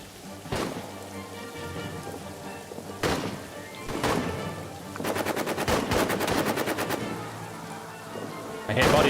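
Gunfire in a World War I trench video game: single sharp shots at irregular intervals, then a burst of rapid machine-gun fire, loud with faint background noise between.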